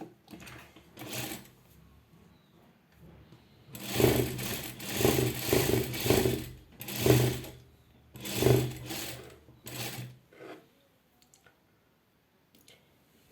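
A sewing machine stitches the finishing line around a blouse neckline in several bursts of rapid, rattling needle action with short pauses between them, fairly close and alone without talk.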